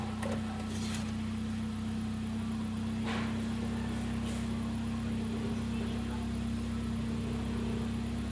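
A Hyundai Accent with a Kappa engine idles just after starting, following a fuel filter change, giving a constant low droning hum with a steady tone and faint scattered clicks close by.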